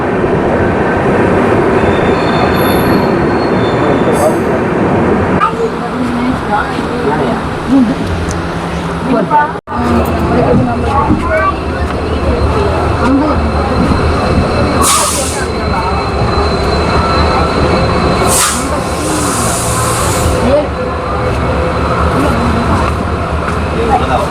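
Rockfort Superfast Express train pulling out of Tambaram station on a Chennai to Tiruchirappalli run, a steady loud rumble of coaches and rails with occasional squeals and bursts of hiss, voices talking over it.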